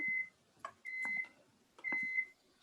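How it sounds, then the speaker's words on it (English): A kitchen microwave oven emits high, clean electronic beeps in short pairs and singles, with quiet clatter and small movement noises between them in a hushed room. "Something is beeping."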